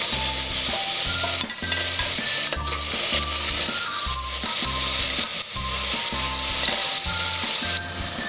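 Potatoes fry in vegetable oil in a pot with a constant bright sizzle, accompanied by steady, pulsing background music.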